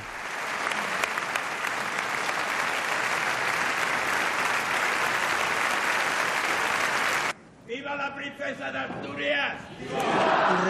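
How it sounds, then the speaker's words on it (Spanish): A large ceremony audience at the Princess of Asturias Awards gives a sustained, loud ovation after a speech, a thick roar of clapping that cuts off abruptly, followed by softer scattered claps and voices. "la ovación que ha coronado su primer discurso"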